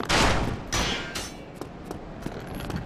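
Gunshots from an enemy firing on the player in Dark Souls, a few loud cracks close together at the start and then fainter scattered shots with mechanical clatter.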